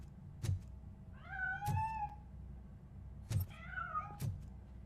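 A cat meows repeatedly in the video game RoboCop: Rogue City, two drawn-out, clear mews close by, each opening with a short sharp knock, over a low steady background hum.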